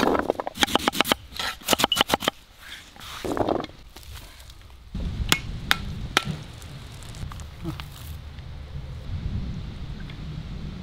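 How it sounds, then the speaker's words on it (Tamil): A knife cuts elephant foot yam into button-shaped pieces, giving a quick run of crisp chops followed by scattered single cuts and handling noise, close and fairly loud. "எல்லா சேனக்கிழங்கையும் இந்த மாதிரி பட்டன் மாதிரி நம்ம வெட்டி எடுத்துக்கணும்"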